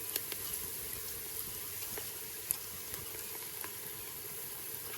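Chili, mustard seeds and turmeric sizzle and crackle in hot oil for a village-style raw jackfruit curry, a steady close frying hiss with scattered sharp pops throughout, no talking.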